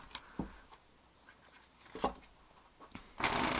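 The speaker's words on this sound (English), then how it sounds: "Let's give her a shuffle." Tarot cards from a thin, sturdy deck being shuffled by hand, with a few soft riffling taps and card flicks, then a louder burst of shuffling at the end, close and quiet with no talk.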